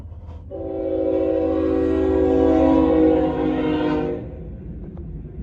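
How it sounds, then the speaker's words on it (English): BNSF intermodal freight train passing in Plattsmouth, Nebraska, its horn sounding one long sustained blast over the rumble of the moving train, fairly loud and near. "Just an intermodal train here"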